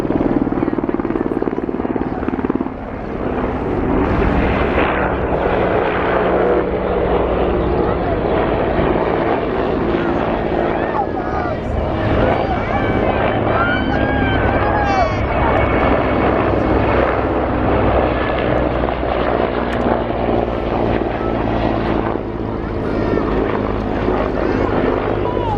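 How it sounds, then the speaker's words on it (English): Mil Hind and Hip military helicopters fly in formation at the RIAT air show, a loud, continuous rotor and turbine roar with a steady chop that holds for the whole span. The two machines stay close and powerful against a busy outdoor background. "The other machine in this formation, the Hip, is part of the most successful helicopter family"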